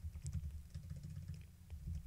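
A command is typed on a computer keyboard in a terminal, soft rapid key taps under a low, rumbling background hum.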